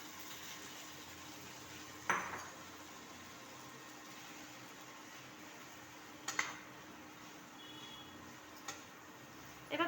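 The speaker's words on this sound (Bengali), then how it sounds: "এবার পাস্তাগুলিকে আমি সবজির সাথে ভালোভাবে মিশিয়ে নেব।" Vegetable pasta being mixed with vegetables in a pan, with four sparse, sharp utensil clinks against the pan over a faint, quiet background and no voices.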